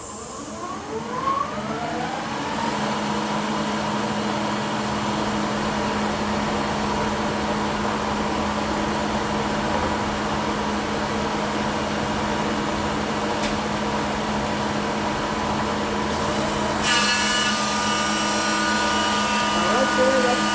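A Shopsmith planer fitted with a helical cutterhead, run at about 4,000 RPM, planes an oak board in one long, loud, steady whine and roar that swells as the wood feeds through, while someone talks over it.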